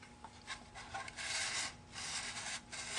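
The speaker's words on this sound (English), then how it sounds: "I use a radius sander" A radius sander works over the spruce-and-maple top and back plates of a violin, giving a close, continuous rasping rub that swells and fades in uneven strokes beneath a faint steady hum.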